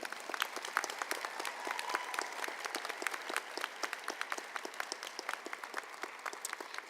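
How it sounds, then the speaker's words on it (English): Steady clapping from an audience at a college convocation, crisp individual claps blending into continuous moderate applause from a seated crowd without letup. "Yes, you can clap."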